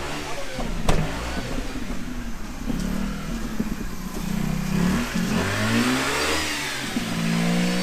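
A 2006 Mazda RX-8 rotary engine revs hard and is held high, rising and falling with a buzzy, busy roar close by, with cheering voices in the background.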